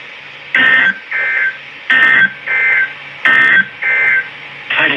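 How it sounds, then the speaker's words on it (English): A weather radio sounds its warning alarm in loud, evenly spaced electronic pulses. Each pulse is a harsh, buzzing tone over a faint steady hum, and the bursts repeat in a regular on-off pattern. "The warning alarm will only be activated for warnings in selected warnings affecting the area."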